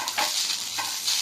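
Mint and young curry leaves sizzle in hot oil under a bright, hissing crackle, with soft stirring scrapes at a steady pace, close by and without talk.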